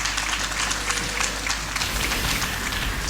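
An arena audience cheering for Fnatic at a League of Legends final, a dense continuous wash of applause and crowd noise, loud and sustained throughout.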